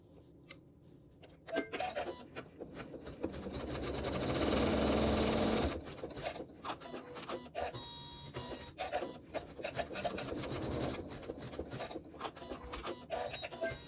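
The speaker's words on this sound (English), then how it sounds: "I will let it stitch this curved section here and the section here" Embroidery machine stitching a curved section of a pincushion, a steady close mechanical whirring and rapid needle clatter, surging louder for a few seconds before settling into a busy, irregular stitching rhythm.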